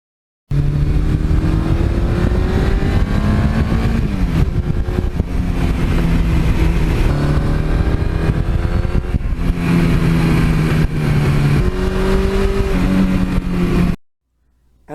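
A 1982 Suzuki GS1100E motorcycle roars steadily while being ridden, its engine note rising and shifting through gear changes, loud and close for about fourteen seconds before cutting off.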